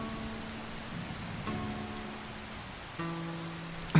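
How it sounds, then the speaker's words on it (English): Steady rain patters across the whole stretch in the Skyrim video game, with sustained musical tones layered over it and a sharp knock right at the end. "It's rainy."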